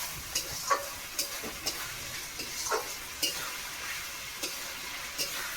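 Spices fry in oil before jackfruit goes in, giving a soft, even sizzle with regular light scrapes and clicks of stirring at close range.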